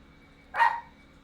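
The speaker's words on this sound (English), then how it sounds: "so my dog's freaking out." A pet dog, worked up by a pizza delivery arriving, lets out one sharp, moderately loud bark in an otherwise quiet room.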